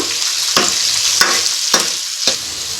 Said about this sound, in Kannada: ಇದು ಬೆಳ್ಳುಳ್ಳಿ ಕ್ಲೀನಾಗಿ ಫ್ರೈ ಆಗೋವರೆಗೂ ಮತ್ತೆ ಫ್ರೈ ಮಾಡ್ಕೋಬೇಕು